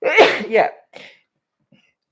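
A woman sneezes once close to the microphone, a sharp two-part burst, then briefly speaks a word before near silence.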